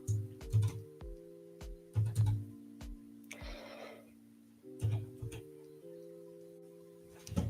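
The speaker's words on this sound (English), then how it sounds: "Now my keyboard doesn't want to work." Typing on a computer keyboard: scattered clusters of quiet key clicks with pauses between them, alone over a faint steady hum.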